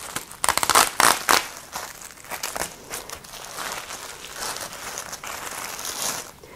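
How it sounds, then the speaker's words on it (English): Plastic mesh netting is cut and peeled off a foil-wrapped spiral bone-in holiday ham, giving close crinkling, snipping and crackling with a few sharper bursts early, then steadier rustling. "they come with this mesh that you can just cut right off"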